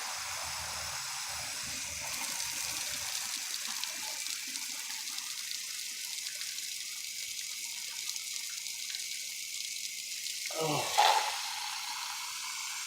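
Tap water runs into a cup in a steady, close rush that continues for several seconds, with a brief louder splash near the end.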